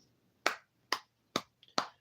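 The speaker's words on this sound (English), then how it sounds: "Round of applause." Four sharp hand claps spaced about half a second apart, crisp and fairly close, with nothing else around them.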